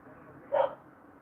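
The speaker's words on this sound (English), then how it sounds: "That neighbor's dog just decided he wanted to go bark at people." A neighbor's dog barks once outside, a single short, muffled bark at a distance over a quiet background.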